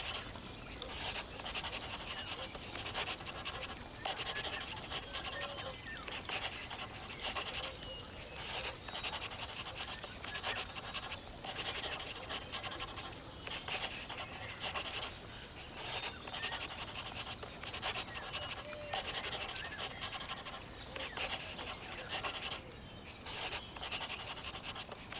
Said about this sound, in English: Now, let's make the outline bold and sharp.